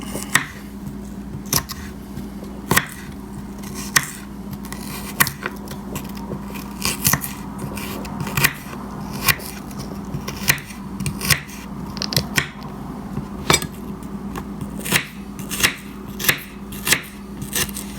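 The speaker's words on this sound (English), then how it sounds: "I'll do the celery also to show you. So I would just cut it like that." A knife chops celery on a cutting board during prep for pork-stuffed bitter melon soup, with crisp, close cuts falling in a steady, slightly uneven rhythm, about one or two per second, with no talk.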